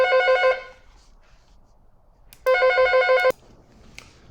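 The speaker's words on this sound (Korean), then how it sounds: "중간에 잠깐 전화가 와서 끊었습니다." A telephone rings twice during a lecture, each a short bright trilling burst, the first at the start and the second a few seconds later, with quiet room noise between them.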